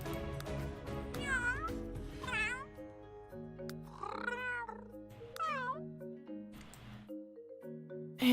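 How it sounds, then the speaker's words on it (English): A cat in The Sims 3 gives a series of deeper, drawn-out meows over soft game music, each call rising and falling, with short gaps between them and no talk. "I'll give you a deeper meow."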